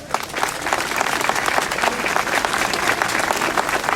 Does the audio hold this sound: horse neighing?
no